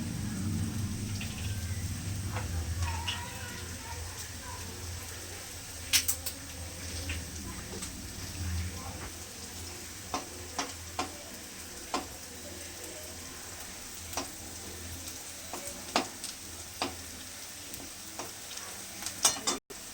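Cumin seeds and two dried red chillies sizzle in hot oil for a mixed dal, a steady frying hiss near and moderately loud, with scattered sharp pops and crackles.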